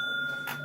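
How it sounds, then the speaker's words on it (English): A single bright bell ding rings once, short and clear, over a steady electronic tone during a game show segment. "That's their bell."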